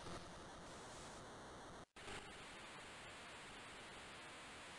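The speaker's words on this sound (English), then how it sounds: "This water sound is reminding me of Pirates for the NES." Water ambience in Final Fantasy 6 Advance, a steady hiss like rushing waves or surf, very faint, that cuts out for a split second before resuming unchanged.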